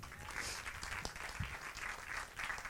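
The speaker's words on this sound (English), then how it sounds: "Give him a round of applause, everyone." An audience claps in steady, moderately quiet applause for a man invited up on stage, a short burst of many hands.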